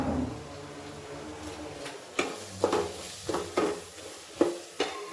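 Garam masala frying in a pan while cooking kushka, a low sizzle broken by repeated sharp scrapes and clinks of a spoon stirring against the pan, close and fairly quiet.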